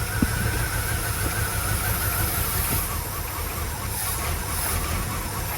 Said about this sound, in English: So, guess we'll have to do some adjustments to the idle, but it's running.